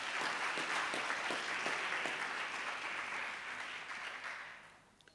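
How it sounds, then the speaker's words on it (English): A lecture-hall audience at a professorial inaugural lecture applauds in a dense, even wash of clapping that gradually fades out toward the end. "Can you give yourselves a big round of applause?"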